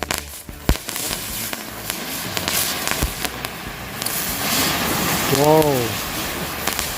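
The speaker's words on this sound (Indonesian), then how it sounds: "Mercon gangsing 4 pak sekaligus." Spinning ground firecrackers, four packs lit at once for a New Year celebration, crackle and pop in a dense continuous burst with sharp bangs, a whistling spin rising toward the end, and voices exclaiming over it.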